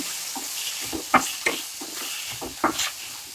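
Chopped banana stem sautés in a pan, with a soft frying sizzle under irregular scraping and clinking strokes as it is stirred.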